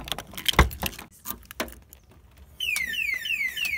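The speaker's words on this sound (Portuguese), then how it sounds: "Olha o alarme de segurança do bagulho, tio." Security alarm on a Fiat Uno chirping as the car locks, a run of repeated electronic chirps arriving after some key jangling and clicks, fairly close and clear.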